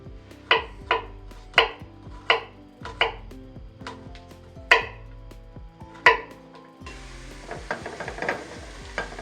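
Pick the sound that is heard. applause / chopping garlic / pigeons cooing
chopping garlic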